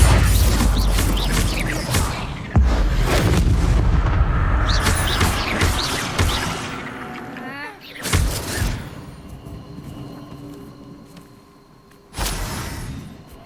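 Confringo blasting spells in the video game Hogwarts Legacy burst loudly in repeated heavy booms and crashes during a fight in the Forbidden Forest, with shouted spell incantations in between.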